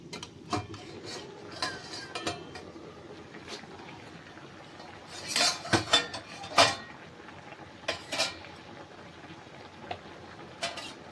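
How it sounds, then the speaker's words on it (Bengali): Metal plate used as a lid clinks and scrapes as it comes off a pan of softened mixed winter greens, sharp clattering knocks clustered midway over a quiet kitchen background with scattered lighter taps. "ঢাকনাটা এবার তুলে নেব আমি একটা থালা দিয়ে ঢাকা দিয়েছি"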